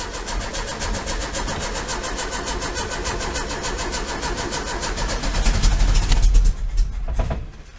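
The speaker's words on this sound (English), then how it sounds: "We're gonna sit in here and give it some gas while cranking it." A 1973 VW Super Beetle's engine is cranked with gas applied, a rapid rhythmic starter chug that goes on for several seconds, rises briefly as it nearly catches, then fades out without starting.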